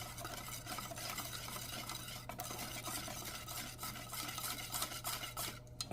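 Melted butter stirred around in a pan, quiet scraping strokes over a faint low hum and gentle sizzle, continuous for several seconds with no talk.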